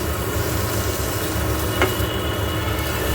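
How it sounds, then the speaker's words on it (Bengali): Potatoes and onions frying with spices in a pan, a steady broadband sizzle that runs unbroken and evenly loud from start to finish, with a faint low hum underneath. "আলুগুলো পেঁয়াজগুলো ভালো করে ভাজা হতে হবে"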